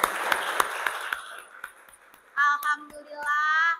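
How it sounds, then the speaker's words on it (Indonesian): A classroom of students claps in a quick, regular rhythm during an arts lesson, the claps fading after a second or so, followed by children's voices speaking in unison. "Tepuk tangan semuanya."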